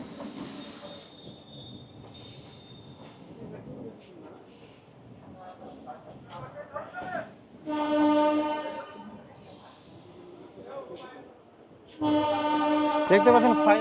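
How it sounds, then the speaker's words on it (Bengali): The Sairang–Kolkata Express rolls slowly into Naihati station with a steady rumble and hiss, broken by two loud, sustained horn blasts, one around the middle and one near the end. "দেখতে পাচ্ছেন ট্রেনটি ধীরে ধীরে পৌঁছে যাচ্ছে নৈহাটি স্টেশনে"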